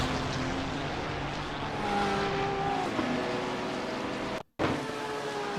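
BMW GT3 race car engine in a sim-racing game, a continuous loud droning roar with shifting pitch as it accelerates, a brief cut to silence near the end before resuming.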